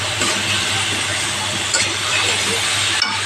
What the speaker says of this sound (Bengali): এভাবে ভেজে নেব মশলাটা